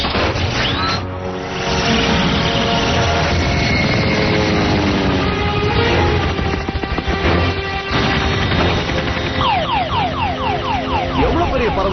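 Loud, steady aircraft drone with rotor-like beating fills the clip, dense and continuous, with clattering and scattered higher chirps layered on top.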